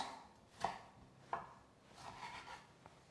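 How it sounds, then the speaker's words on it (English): A knife cuts a tomato into pieces on a board, giving a few soft, separate chopping thuds spaced irregularly, faint and close, with no voices. "We cut our tomato in pieces"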